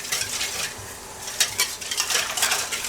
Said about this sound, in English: So you're just going to whisk this often.